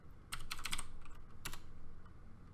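Password keys typed on a computer keyboard while setting up a LEMP server in VirtualBox: a quick burst of crisp clicks, a pause, then a few more taps, close and alone.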